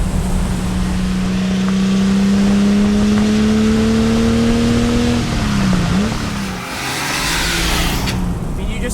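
A 1967 Shelby Mustang GT500 V8 pulls hard under acceleration, its engine note climbing smoothly and steadily before a gear change and renewed drive, loud and close, with someone speaking over it.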